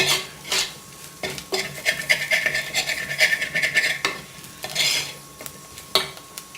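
Onions and spices sauté in a pan for a curry, a spoon scraping and stirring in quick bursts over a steady soft sizzle, with no voices.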